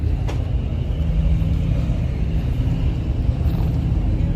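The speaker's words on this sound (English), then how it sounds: "Let me go move this badass supercharged Caprice." A supercharged Chevrolet Caprice idles and rolls slowly at a race-night drag strip, giving a loud, steady low engine rumble close by without any clear revving.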